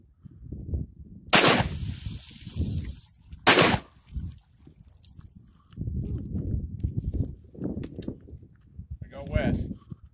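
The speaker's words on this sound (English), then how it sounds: "A couple more shots will get it on its way." Two loud, sharp blasts from a Tristar Upland Hunter 12 gauge over-under shotgun ring out outdoors a couple of seconds apart, with people talking between and after the shots.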